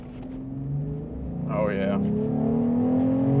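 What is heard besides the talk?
V6 Ram 1500 truck engine revving with K&N cold air intake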